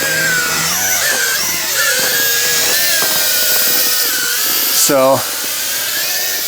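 A DBPOWER UDI U842 Predator quadcopter drone flying high gives a continuous high-pitched rotor whine and buzz, with someone briefly speaking over it and a sharp rising pitch swoop near the end.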